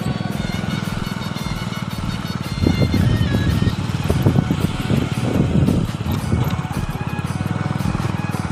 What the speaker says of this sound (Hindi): ट्रैक्टर आ रहा है घर से